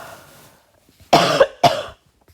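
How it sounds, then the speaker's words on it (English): Two sharp, loud coughs close by, a short pause between them, after near silence. "Sorry about that cough."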